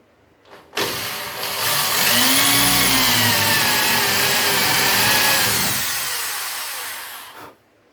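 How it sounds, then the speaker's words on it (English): A power drill with a 5–6mm bit bores part-way into a steel body panel on a Ford Escort Mk1 under restoration, a loud sustained whining grind lasting several seconds before stopping. "what I do is part-way drill through with a 5 or 6mm bit"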